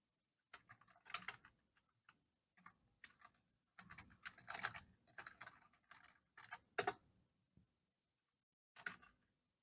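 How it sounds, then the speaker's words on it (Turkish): Quiet clicking keystrokes on a computer keyboard as an SSH command and IP address are entered, coming in irregular short bursts and single taps with brief gaps between. "SSH Karen yazıyorum ve hedef sistemin IP adresini yazıyorum"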